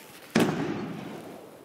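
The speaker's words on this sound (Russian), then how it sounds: "Звук даже вот такой маленькой хлопушки может вызвать у собак панику" A small New Year firecracker goes off in a single sharp, loud bang, then a crackling tail slowly fades over the next second.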